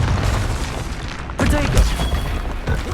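In the Hogwarts Legacy duel, a Confringo blasting spell erupts as a sudden loud burst partway through, followed by a second thump, while voices carry on over the fight.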